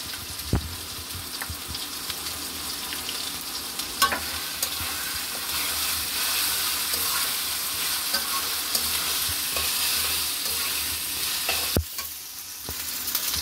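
Chicken liver fries in a pan as cumin paste is stirred in, giving a constant crackling sizzle with scraping stir strokes and occasional sharp clicks throughout.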